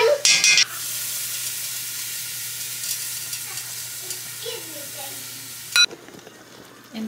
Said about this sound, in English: so now we have to add 3 tablespoons of flour to coat the vegetables.